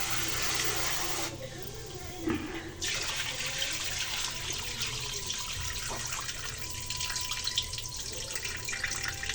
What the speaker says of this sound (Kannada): ಅಕ್ಕಿ ತುಂಬ ವಾಶ್ ಮಾಡಿದ್ರೆ ತುಂಬ ಒಳ್ಳೆಯದೇ